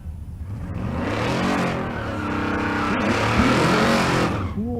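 A Corvette convertible drag racing at a Race Week event in Kearney, Nebraska, roaring loud and close as its engine revs climb through gear changes, with tire noise and a sustained full-throttle howl.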